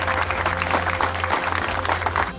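An audience at a film festival closing ceremony claps continuously at moderate loudness, a dense patter over a low background hum.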